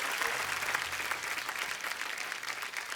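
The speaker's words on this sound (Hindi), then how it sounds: "एक बार जोरदार तालियां हो जाए हमारे तमाम कलाकारों के लिए।" A studio audience at a Hindi TV comedy show claps together in a continuous, moderately loud wave that holds steady throughout without speech.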